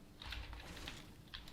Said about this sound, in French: on entend bien les trucs de clavier là